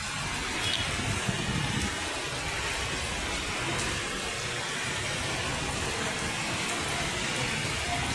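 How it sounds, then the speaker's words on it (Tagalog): Heavy rain pours down in a dense, constant hiss, with a low engine rumble beneath it and no one speaking. "Ayan, malakas pa ulan."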